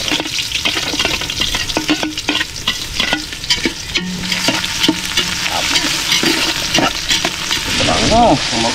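Ginger, onion and garlic fry in a pan with a bright crackling sizzle, punctuated by repeated scraping and clattering stirs close by, and a voice briefly speaks near the end.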